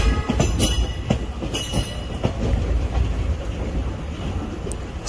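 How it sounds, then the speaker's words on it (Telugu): A MEMU train waits at a signal outside Vijayawada railway station, with a steady rumble and rattle of rail cars, faint wheel squeal and a few sharp clanks throughout. No one speaks. "ఇక్కడ ఒక మెమూ ట్రైన్ అనేది స్టేషన్లోనికి రావడానికి సిగ్నల్ వెయిటింగ్ వద్ద"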